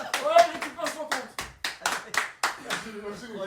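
Hands clap sharply in a fast, uneven series of about a dozen close, loud claps, mixed with a voice talking and laughing.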